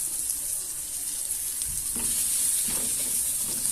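Kimbap filling being stirred in a frying pan, a steady hiss of sizzling with scraping and clinking of the utensil against the pan through the second half, close and moderately loud, no talking.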